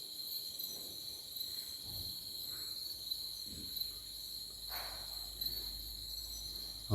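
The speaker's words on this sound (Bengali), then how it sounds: "ঝিঝি ডাকছে ক্রমাগত।" Crickets chirp continuously in a forest at night near a jungle resort at Lataguri, Garumara, a steady high shrill drone with faint scattered rustles and a bump at the end.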